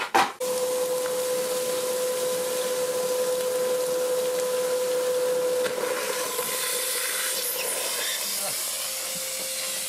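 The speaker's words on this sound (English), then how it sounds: "I'll put this back and we'll hoover that out." A vacuum cleaner draws dust through a homemade wooden cyclone dust collector, giving a loud steady whine with a strong constant tone and airy hiss that shifts to a rougher rushing sound partway through, with no talking.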